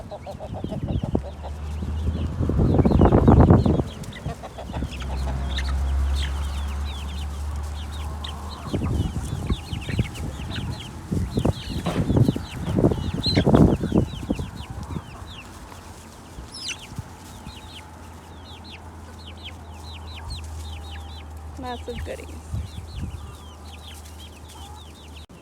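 Free-range chickens in a backyard cluck and murmur continuously near and far, with a person briefly speaking early on.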